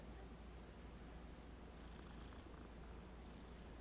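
A cat purrs in Hogwarts Legacy, a soft continuous rough rumble held steady and close, quiet and without any talking.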